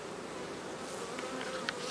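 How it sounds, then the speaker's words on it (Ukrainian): A dense, steady hum of many honeybees buzzing together at an open hive, close and continuous, with individual insects droning past. "От ходять бджоли."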